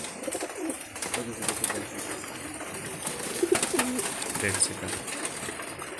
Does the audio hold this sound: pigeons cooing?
yes